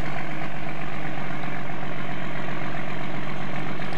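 Tractor engine idling in a farming simulator game, a steady low droning hum with a constant rumble held loud and unbroken throughout, no voices.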